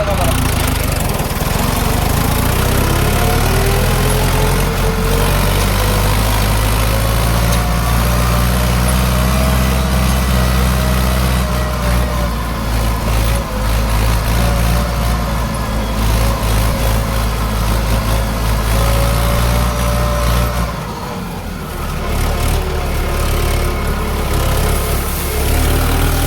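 A tractor-type vehicle engine hauling a trolley loaded by JCB runs loud and steady close by, a continuous throbbing drone that dips briefly near the end.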